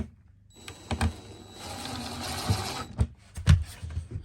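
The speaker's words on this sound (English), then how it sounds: "we'll go in and screw this guy into place" A powered driver whirs briefly, driving a screw into a battery shut-off switch inside an Ice Castle RV, with a sustained motor whine broken by several sharp clicks and knocks as the screw seats.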